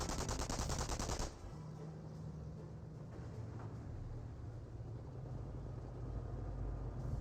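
Steady, dense machine-gun fire from a British Vickers emplacement in a Company of Heroes battle, a loud continuous rattle that runs the whole time under a low rumble of vehicles and combat.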